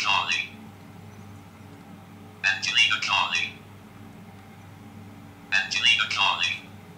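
An Android phone rings with an incoming call in three repeated bursts of a bright melodic ringtone, separated by pauses and heard clearly over a low steady background hum.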